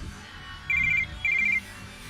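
A telephone rings for an incoming call, two short electronic ringing bursts separated by a brief pause, clear and fairly close over a quiet room.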